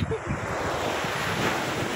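Ocean surf and wind at Bangkuduan beach, a continuous broad wash of waves mixed with gusty wind buffeting the microphone, steady and fairly close.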